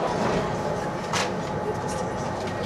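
Steady rumbling rush of a Lille metro train in motion, a continuous broadband roar with a brief brighter swell partway through.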